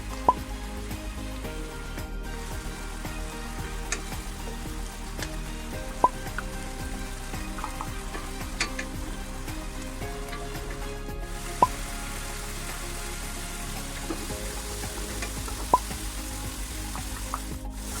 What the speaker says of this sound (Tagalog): kaunting tuna oil lang muna ang ilagay para maggisa